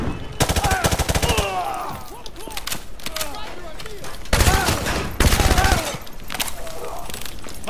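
Dense gunfire from a Modern Warfare 2 battle around a school: rapid overlapping bursts and single shots crackling in loud waves, with voices shouting over the shooting.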